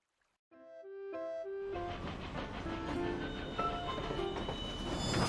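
A train moves in the video game World of Final Fantasy Maxima. A few soft melodic notes give way to a steady, building rolling rumble with hiss, and no one speaks.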